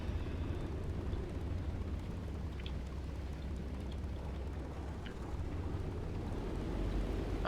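Steady low drone of a B-29 bomber's engines as it approaches a carrier in a flight simulator game, continuous and even in level, with faint scattered clicks over the hum.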